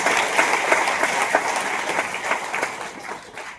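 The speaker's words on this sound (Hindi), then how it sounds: "ताली बजा लो एक बार" An audience claps together at a sales meeting, a dense sustained round of applause with uneven individual claps, fading slightly toward the end.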